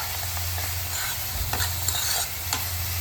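Onion and tomato frying in a pan, a close, steady sizzle with scraping stirs of a spoon across the metal, a few louder strokes midway, no voices.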